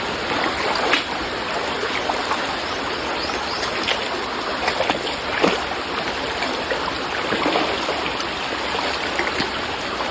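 A stream rushes over rocks near a waterfall in the countryside, a steady close-up wash of flowing water with scattered splashes and gurgles.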